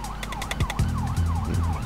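A police siren from the video game GTA 5, rising and falling in quick regular cycles over deep car engine rumble, loud and steady.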